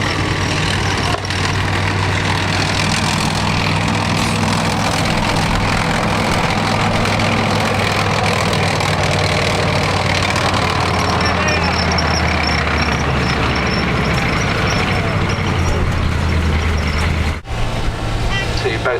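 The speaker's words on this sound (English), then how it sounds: "Last German vehicle coming through there, Orange troop carrier." An orange German military troop carrier at a land battle display rumbles past with a steady low heavy-engine drone, continuous and fairly loud, under a commentator's voice and outdoor crowd noise.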